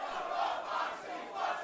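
Wrestling crowd at a Jon Moxley vs Tony Deppen match, a dense roar of many voices in a rhythmic, swelling chant, loud and filling the space with no single speaker standing out.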